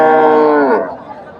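A Friesian dairy cow, dry after seven months, gives a loud, close moo at a busy cattle market at Dhaper Hat, Bogura, one long harmonic call that slides down and fades.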